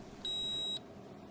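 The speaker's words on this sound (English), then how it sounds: "On the base unit, the probe icon will stop flashing and the unit will beep." A PosiTector PC powder checker base unit gives a single short, clear high-pitched electronic beep lasting about half a second against faint background hiss.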